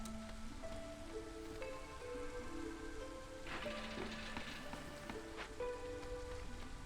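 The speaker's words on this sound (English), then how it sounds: "we're in drizzle now" Drizzle in Against the Storm: a soft, continuous patter of light rain runs under quiet melodic game music.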